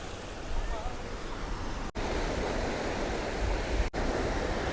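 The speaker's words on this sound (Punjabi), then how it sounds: "ਕਿੰਨੀਆਂ ਵੱਡੀਆਂ ਵੱਡੀਆਂ ਛੱਲਾਂ ਆ ਰਹੀਆਂ ਪਾਣੀ ਦੇ ਵਿੱਚ" Large sea waves at Bandra Beach make a continuous, loud broadband roar of surf and wind with almost no pauses, broken only by two brief dropouts.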